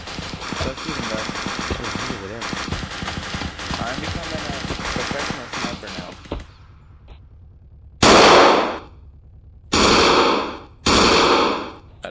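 Gunfire in a Roblox hood-map shooter game, dense rapid shots over the first six seconds, then after a pause three loud separate bursts of automatic fire, with voices talking during the game.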